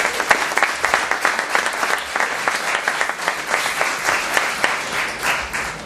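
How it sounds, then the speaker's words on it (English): A room at a press conference breaks into a sustained round of applause, dense and lively clapping from many hands holding steady for several seconds with no voices over it. "Can we give a round of applause to John Noonan,"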